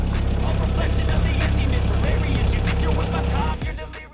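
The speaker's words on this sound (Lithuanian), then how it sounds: "Tai šildomės Audi" An Audi's engine runs loud and steady while it warms up, a close, rumbling drone that holds for several seconds and then eases off at the end.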